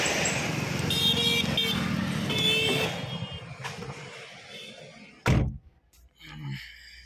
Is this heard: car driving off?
yes